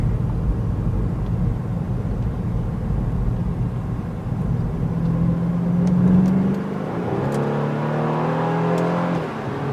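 A 2014 BMW 428i xDrive engine revving in Sport mode, a loud close drone climbing in pitch as the revs rise, then a smooth whine easing back down near the end.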